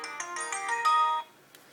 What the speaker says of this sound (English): Your ringtone volume can be controlled by your volume rocker.